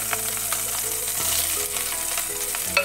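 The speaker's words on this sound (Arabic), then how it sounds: "نخليوها تقلى شي شوية، وفعلا ملي كتقلى ليا البصيلة شوية" Onion frying in an electric tagine makes a continuous sizzle with small crackles and pops, close and fairly loud, with a brief stirring scrape near the end.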